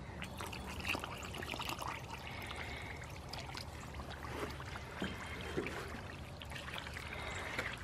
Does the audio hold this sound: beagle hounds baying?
no